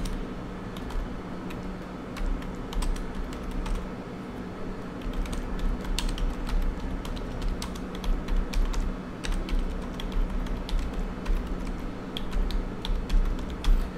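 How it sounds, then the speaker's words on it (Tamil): Rapid typing on a computer keyboard, close and clear, with irregular bursts of clicking keystrokes that grow denser over about fourteen seconds, with no talking. "for example here I'm typing"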